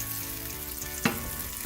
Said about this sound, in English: A low sizzle, but you don't want it to immediately burn up and brown.